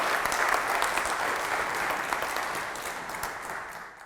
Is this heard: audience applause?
yes